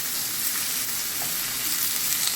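Curry-coated shrimp sauté in a hot pan for coconut curry shrimp, giving a steady, dense sizzle that holds evenly throughout with no voices.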